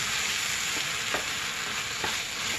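Sweet flattened rice (poha) and jaggery mixture stirred in a pan on the stove, a steady low sizzle with a few soft scraping strokes of the spoon, close and continuous, no talking.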